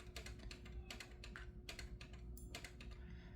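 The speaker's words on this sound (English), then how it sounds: "That's my laminator making all that funky clicking noise." A laminator gives off a quick run of faint, irregular clicks and ticks against a steady low hum, heard alone in a hotel room with no talking.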